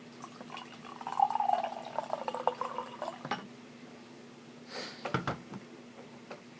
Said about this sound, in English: So let's go ahead and pour some.